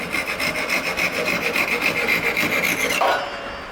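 A walnut blank being turned into a chess pawn on a wood lathe, a steady, close, dry scraping rasp of the tool cutting the spinning wood, easing off just before the end.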